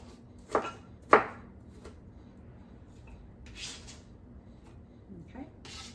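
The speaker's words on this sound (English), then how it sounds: "I'm just going to chop these in just little bite-sized pieces" Two sharp knife chops through a Golden Delicious apple being cut into small pieces, followed by softer scraping and handling sounds, with a faint voice in the background.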